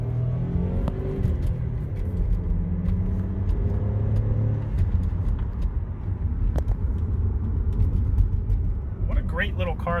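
A car engine rumbles loudly and steadily, its pitch rising as it revs, with a voice heard briefly near the end.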